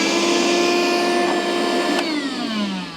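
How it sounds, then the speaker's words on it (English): A portable hair-clearing vacuum cleaner runs loudly and continuously close by, a steady motor whine whose pitch drops slightly toward the end. "And it gets to vacuuming."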